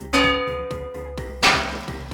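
A ringing bell, struck for a recreated Minecraft sound, gives several clear metallic strikes with long humming decays. The second hit lands harder and brighter than the rest, and it plays alone and close.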